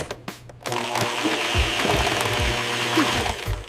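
Kitchen blender starts after brief clicks and runs with a steady, loud whirring motor drone for a few seconds, alone with no talk.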